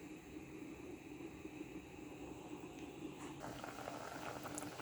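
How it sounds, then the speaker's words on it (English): A pot of ackee boils with a quiet, steady bubbling hiss, soft and close, and faint pops and clicks near the end. "we're waiting on our ackee to complete boiling"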